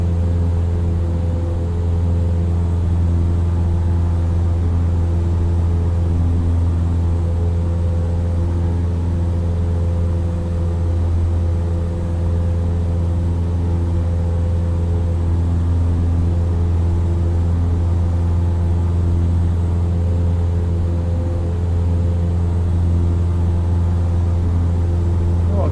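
A Cessna Skyhawk's piston engine in Microsoft Flight Simulator 2024 makes a loud, steady low drone with a constant hum through the whole stretch, unchanging in pitch and level.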